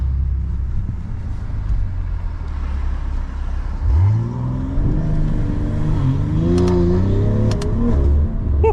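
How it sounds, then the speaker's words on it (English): A BMW M340i xDrive with an XHP tune launching from a stop, the low idle rumble giving way to a sudden surge of revving engine that climbs and shifts through several rising sweeps, loud and close inside the car. "The car didn't want to launch there."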